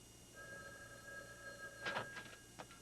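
A telephone rings during a hostage standoff in a bank, heard as a faint, steady electronic ring tone lasting a couple of seconds, with a few soft knocks and clatter near the end.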